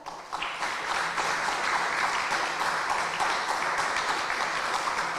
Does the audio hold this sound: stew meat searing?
no